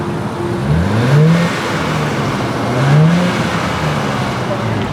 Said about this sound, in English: Could you give it like a rev or two